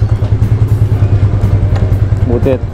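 A Yamaha Mio Sporty scooter engine putters with a steady rhythmic throb while riding in Roxas City, Capiz, with a voice speaking briefly over it near the end.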